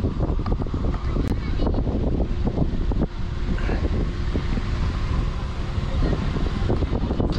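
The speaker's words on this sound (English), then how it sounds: "bit windy." Strong wind buffets the microphone in a continuous loud rumble in Old San Juan, Puerto Rico, with faint voices and open outdoor noise beneath it.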